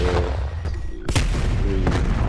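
A grenade explodes in Call of Duty: Black Ops Cold War, one sharp loud blast in the middle followed by a rumbling tail and a smaller thud, over continuous game noise.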